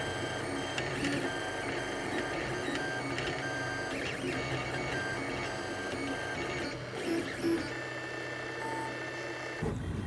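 A Monoprice Select Mini V2 3D printer prints black eSun PETG filament, its stepper motors giving off a continuous whirring with shifting tonal buzzes and chirps, close and fairly quiet, with no talking.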